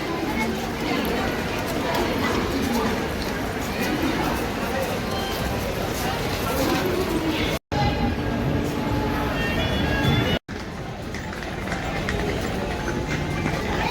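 A passenger train pulls out of a station with a continuous, loud rumbling clatter of wheels on rails, heard close by under ambient crowd noise and a speaking voice.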